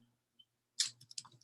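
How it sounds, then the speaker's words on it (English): Keyboard typing during a home livestream: a quick flurry of soft clicks and taps after near silence, fairly close and quiet, with no talking. "I'm typing Joanne's"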